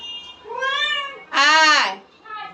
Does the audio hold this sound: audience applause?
no